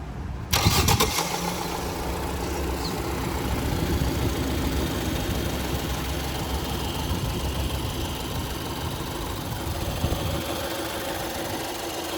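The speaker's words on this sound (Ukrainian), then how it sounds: "Запустіть, будь ласка, двигун." A 2018 Ford Escape 1.5 4WD engine cranks and catches, then settles into a steady, fairly loud idle that runs on without talk.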